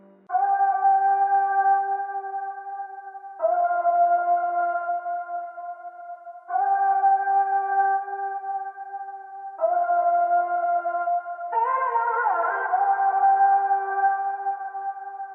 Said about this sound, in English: I cut the highs with an EQ, added some reverb, and applied some iZotope vinyl.